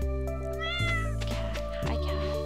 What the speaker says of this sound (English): Cat, hi cat, good morning.